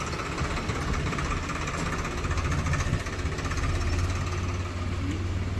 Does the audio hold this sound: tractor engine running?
yes